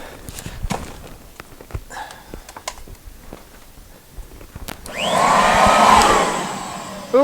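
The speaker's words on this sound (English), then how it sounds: "Grab the handle of the vacuum." A vacuum cleaner starts up after a stretch of scattered knocks and footsteps in an attic crawl space, then runs as a steady loud whoosh for a couple of seconds.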